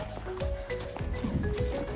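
A horse trots in a circle, its hooves producing an irregular run of clip-clops against a busy background.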